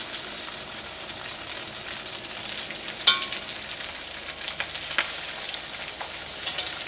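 Pieces of chicken for Kerala chicken kondattam deep-fry in coconut oil, giving a continuous, even sizzle with a couple of faint clicks from a utensil.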